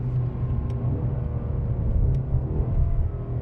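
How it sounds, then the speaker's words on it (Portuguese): A Ford Mustang Dark Horse V8 rumbles steadily with a low exhaust drone, broken by two sharp, brief exhaust pops spaced over a second apart. "E esse estouro do escape, ó, olha que legal."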